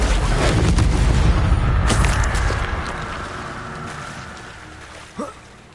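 The Incendio fire spell in Hogwarts Legacy bursts with a loud, roaring whoosh and rumble, then decays over several seconds into a softer hiss, with a brief faint sound near the end.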